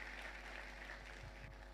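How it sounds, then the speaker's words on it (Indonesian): A church congregation claps during a family-themed sermon service, a faint, steady wash of applause heard from a distance, low and continuous throughout. "Tepuk tangan bagi Tuhan."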